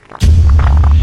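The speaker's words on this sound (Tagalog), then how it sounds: "Ang baho, Mare. Umutot ka ba?" A loud, deep, buzzing fart erupts suddenly and holds for nearly a second, close and booming.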